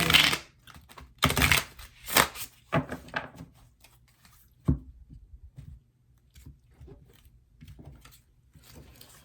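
Tarot cards riffle and slap together in a few quick bursts, then quieter sliding and tapping follow as the deck settles.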